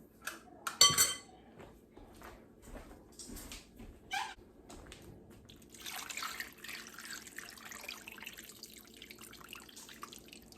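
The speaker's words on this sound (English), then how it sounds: "I'm going to add some more water." Water is poured into a pot of venison stew: a sharp clink, then intermittent splashing and trickling, and later a longer run of liquid pouring, all fairly quiet with no talking.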